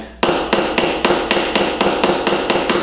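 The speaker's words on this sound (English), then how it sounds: "use the placid end of the hammer and then just give it a few taps" A hammer taps a pin in a watch band about ten times in a steady, even rhythm, each strike sharp and close with a brief ring.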